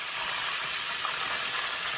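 Large boneless meat pieces fry in oil inside a 5.5-quart enameled cast iron Dutch oven, giving a steady, even sizzle and hiss at moderate volume with no talking.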